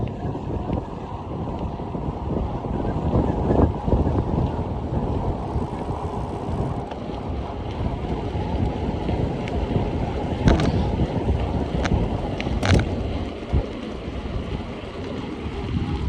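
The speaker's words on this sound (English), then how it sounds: "Wind's pushing us a bit, also counteracting us a bit." Steady, heavy wind rushes across the microphone for the whole stretch of an outdoor bike ride on a trail at about 60°F, a loud continuous roar with a few brief knocks and clicks.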